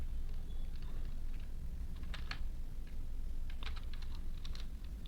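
Fingers type on a computer keyboard in quick, light clusters of key clicks over a steady low hum, with a short pause between bursts.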